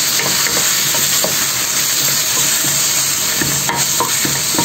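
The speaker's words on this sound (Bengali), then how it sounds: "এটাকে একটু ভাজাভাজি করে নেব।" Ingredients for Chinese biryani stir-fry in a pan with a loud, unbroken hissing sizzle, punctuated by light scraping strokes of the stirring utensil, close up and with no voices.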